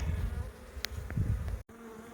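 Honeybees buzz in a dense, close hum while a weatherboard hive is relocated in midwinter, with a few brief knocks and handling sounds in the middle and a short dropout near the end.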